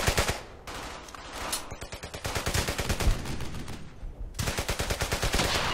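Gunfire in the World War II shooter Brothers in Arms: Hell's Highway, with sustained rapid machine-gun bursts rattling loudly and almost continuously, a short lull, then another dense volley of automatic fire.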